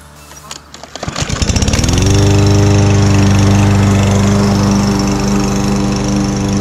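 A small engine sputters, catches and revs up, then settles into a loud, steady run on test after a governor adjustment, close and dominant throughout.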